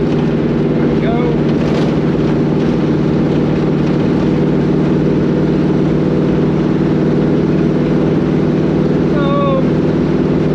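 Chevy Nova wagon with a 700R4 transmission cruising on the highway at about 2400 RPM and 74 mph, a steady low engine drone with road and wind noise running unbroken throughout.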